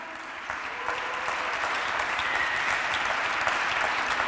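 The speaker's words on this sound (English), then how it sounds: "So big applause for them." Dense crowd applause for national dance champion couples at a Latin dance camp lecture, building slightly and holding as a continuous wash of clapping.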